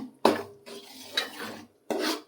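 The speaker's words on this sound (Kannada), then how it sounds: "ಇದರಲ್ಲೇ ರವೆಯನ್ನು ಹುರ್ಕೊಳ್ಬೇಕು" Semolina (rava) roasting in warm ghee in a pan, heard as a few separate bursts of gritty scraping and rasping as it is stirred, close and moderately loud with short pauses between strokes.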